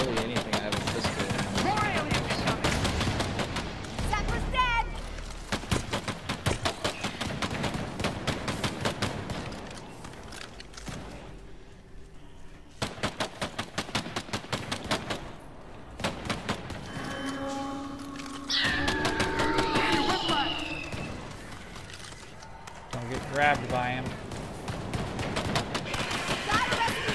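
Rapid, loud bursts of combat shotgun and gunfire in the video game EarthFall boom in dense volleys with short pauses between, amid game effects and creature screeches, while players talk over the action.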